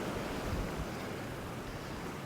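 Storm surf from Hurricane Helene surges and crashes at Madeira Beach, a dense continuous roar of breaking water with heavy wind buffeting the microphone, steady and loud throughout.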